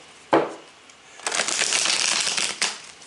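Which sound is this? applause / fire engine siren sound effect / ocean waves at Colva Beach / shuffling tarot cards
shuffling tarot cards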